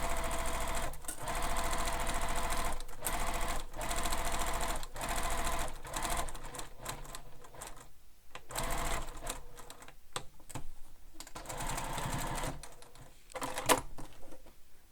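A sewing machine stitches a bag seam in repeated bursts of rapid mechanical whirring, broken by short pauses and faint handling clicks, close up and without speech.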